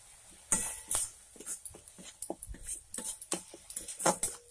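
Spoon stirring tomato paste, turmeric, coriander-cumin and chili masala in a pan for Bengali katla fish kalia, giving irregular soft scrapes and taps with faint sizzling, fairly close and quiet, with no talking.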